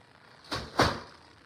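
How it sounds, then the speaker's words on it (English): A door swings shut in a quiet room, two soft thuds close together with the second a little louder, no voices present. "let me close the door"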